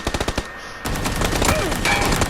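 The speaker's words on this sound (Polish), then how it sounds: "O, ktoś strzela." Rapid burst of gunfire in PUBG, a quick run of sharp evenly spaced shots up front, followed by a denser stretch of continuous shooting and game noise.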